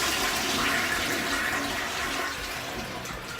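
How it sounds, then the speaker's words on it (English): A household toilet in a home under renovation flushes, a loud, continuous rush of swirling water that fades slightly toward the end, with no talking over it. "I'm just gonna flush this toilet and see if hopefully."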